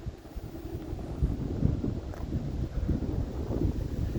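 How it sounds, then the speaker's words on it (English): Gusting wind buffets the microphone outdoors beside a 1996 Chevy Silverado C1500 regular cab short bed pickup, a steady low rumble swelling and easing throughout with no talk. "sorry about the wind"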